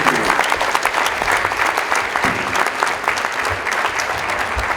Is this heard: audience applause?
yes